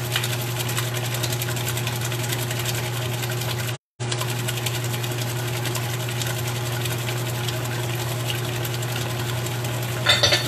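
Electric hand mixer beating egg yolks into cheesecake batter, a steady close motor whir running without pause for about ten seconds, with no talking.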